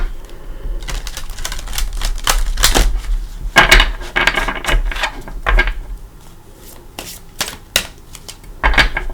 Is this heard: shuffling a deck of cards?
yes